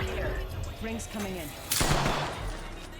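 A single loud gunshot cracks in a game soundscape, with a voice talking over a steady background hum before it.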